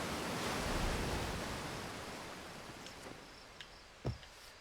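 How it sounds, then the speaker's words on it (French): A large waterfall in the video game Outer Wilds roars as a broad, steady rush of water that slowly fades, with a few faint clicks near the end. "Une grande cascade."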